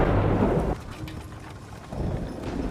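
Heavy rain and a low roll of thunder in a night woodland scene from the 2017 Beauty and the Beast film, a loud rumble at first that eases into steady rainfall, then swells again.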